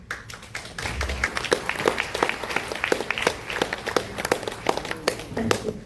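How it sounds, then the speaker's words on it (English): Scattered audience clapping at a state-level mental health and well-being event, individual claps crisp and distinct, swelling slightly then continuing at a steady uneven rhythm, with faint voices beneath. "Round of applause, please."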